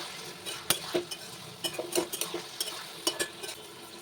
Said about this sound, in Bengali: এবারে কিন্তু বেশ ভালোভাবে একটু কষিয়ে নিতে হবে।